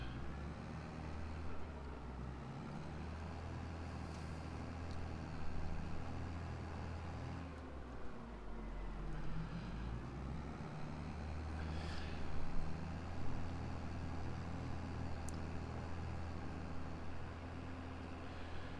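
A tractor engine runs steadily in the Farming Simulator game, with a continuous low rumble that holds at a fairly constant level and swells slightly a few times. No one speaks over it.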